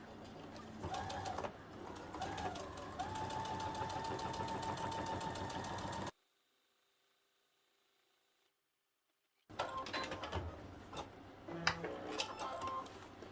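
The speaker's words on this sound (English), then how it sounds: "And then we can take this back to the machine and top stitch it." A sewing machine runs top stitching on a zipper bag, a rapid even mechanical ticking at close range, stopping for a few seconds of silence before stitching resumes in shorter bursts.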